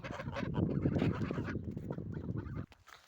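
A flock of farmyard geese honks together in a dense, continuous chatter close by, then falls abruptly quieter near the end, with no talking.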